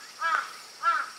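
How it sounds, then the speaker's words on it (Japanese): Two loud, harsh crow caws sound in quick succession, fairly close at a Japanese shrine, with a short pause between them. "カラスが大きいおりますね、これ。"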